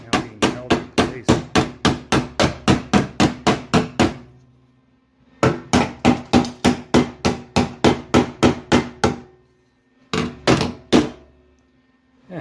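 Hammer taps on a steel panel while a Ford F350 rat rod truck is welded, coming in three bursts of rapid, evenly spaced sharp metallic blows, loud and close, with brief pauses between runs.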